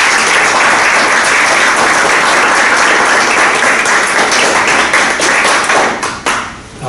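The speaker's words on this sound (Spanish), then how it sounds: "Un aplauso." Loud, dense applause from an audience at a ceremony rolls on steadily for several seconds, then thins and fades out near the end.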